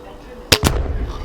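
A BSA Ultra SE air rifle fires at a snowman outdoors in snow: one sharp, loud crack, then a second quick report of the pellet striking, followed by a low rumbling tail.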